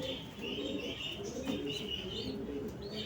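Pigeons in a breeder's loft softly cooing and chirping under steady background noise, with a few brief wing flutters.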